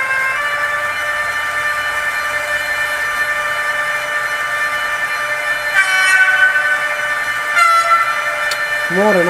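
A model Taurus locomotive fitted with an ESU V5 sound decoder plays steady electric motor whine and tonal hum, with short horn-like blasts near the end, loud and close.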